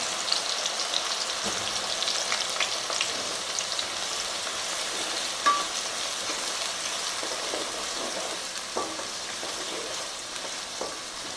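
Onions for chicken biryani frying in hot oil over high to medium flame: a dense, continuous crackling sizzle, close and even, with occasional faint stirs and pops and no talking.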